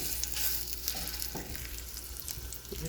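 Beef searing in a hot pan for braised stew, a soft continuous sizzling hiss with a few faint crackles and pan clicks, fairly quiet and steady, with no talking.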